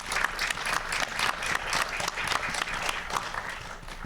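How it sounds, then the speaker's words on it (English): An audience at a panel discussion applauds, with dense, steady clapping from a room full of people lasting several seconds. "Please give a round of applause for him as well."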